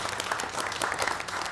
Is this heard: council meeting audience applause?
yes